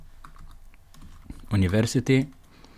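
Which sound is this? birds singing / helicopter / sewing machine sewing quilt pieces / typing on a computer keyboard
typing on a computer keyboard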